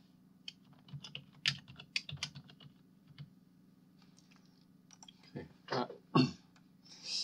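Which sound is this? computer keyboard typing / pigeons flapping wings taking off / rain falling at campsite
computer keyboard typing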